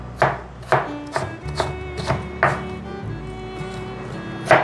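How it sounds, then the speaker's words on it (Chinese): A knife chops peeled jicama into sticks on a cutting board: about eight crisp, evenly spaced thuds, close and clear, with no talking. "把豆薯切条"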